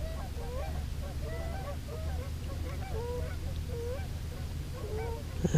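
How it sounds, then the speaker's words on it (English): A flock of geese honks repeatedly in a steady, overlapping chorus, moderately distant, over a low continuous hum on a lake. "Got a couple of pair of geese coming around."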